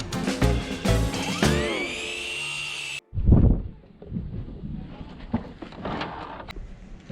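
A power tool cuts through a board, starting with a loud, rising high whine for a few seconds, then a brief break before rougher, uneven cutting noise carries on up close.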